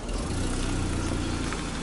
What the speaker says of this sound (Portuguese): O motor tá com um barulhinho muito bom.